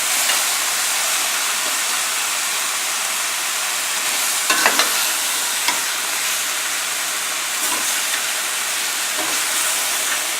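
Sausage and peppers frying in a pan, producing a steady, close hissing sizzle with a few brief clicks and pops of stirring, no voices over it.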